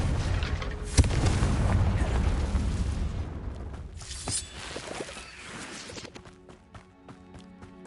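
A fiery Confringo spell blast in Hogwarts Legacy erupts with a loud boom, then a rumbling roar that fades over several seconds, with a few sharp cracks and scattered effects following.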